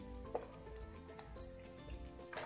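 Cumin seeds sizzle in heated oil in a pan for an amla chutney, a steady soft crackling hiss with occasional light clinks of utensils, close and continuous without voices.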